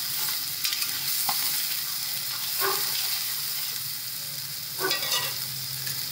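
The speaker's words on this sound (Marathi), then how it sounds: "चांगलं परतून घ्यायचं तेलामध्ये, चांगलं शिजू द्यायचं चांगलं ते" Raw ground masala paste frying in oil for a cowpea pod curry, a steady close sizzle with a few scraping stirs of the spoon and no talk.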